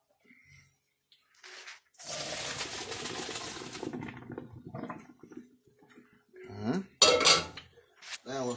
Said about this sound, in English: we're gonna strain it into a colander